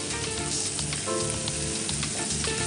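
Peas stirred in a hot frying pan, a loud steady sizzle with repeated soft scraping strokes of a spoon through the crackle.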